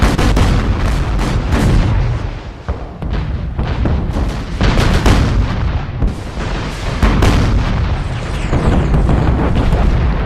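Offshore naval gunfire support in an Iwo Jima wargame pounds without pause, a dense, loud barrage of booming blasts and explosions overlapping for the whole stretch with no voices.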